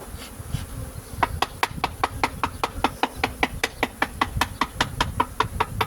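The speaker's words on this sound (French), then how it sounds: "c'est des abeilles gorgées de miel" Honey bees at a queen excluder in an Apidea mini-nucleus hive make a close, rhythmic pulsing buzz, with quick regular beats repeating about five times a second over a low hum.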